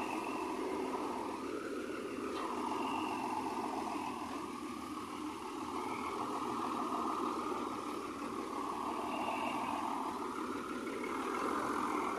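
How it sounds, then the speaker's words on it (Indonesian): A Sumber Jaya bus running the Depok–Tasik–Kawali route idles at Jati Jajar terminal in the early morning, a steady, low engine rumble with a gently wavering hum that continues throughout at moderate volume. "persiapan bus Sumberjaya Depok Tasikawali diberangkatkan dari Terminal Jati Jajar"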